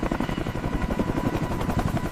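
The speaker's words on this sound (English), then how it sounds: "The operators slide down into the chaos of the rotor wash." Helicopter rotors beat in a fast, loud, close pulsing throb during a night raid, the rapid chop continuous throughout with no voices.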